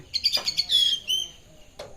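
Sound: myna bird singing

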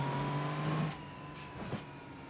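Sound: semi truck engine struggling in BeamNG.drive video game

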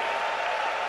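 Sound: congregation applause in church service

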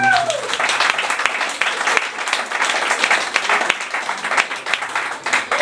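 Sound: audience applause

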